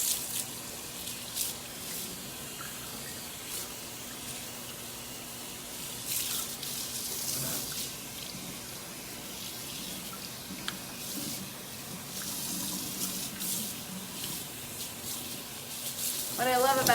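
Water runs into a kitchen sink basin while rinsing it, a faint, continuous hiss and splatter with occasional louder splashes, heard up close and alone.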